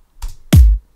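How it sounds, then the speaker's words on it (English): A single mid-range kick drum sample with its saturator chain bypassed thumps once, loud and close, with a boomy low body decaying in under half a second after a softer lead-in hit. "that was just kind of a mid-rangey kick drum"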